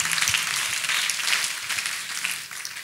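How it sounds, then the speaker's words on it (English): Church congregation clapping together after a healing at a religious service, a steady, dense spread of hand claps from a crowd, sustained for a few seconds and fading slightly at the end. "Let us clap for Master Jesus for your healing."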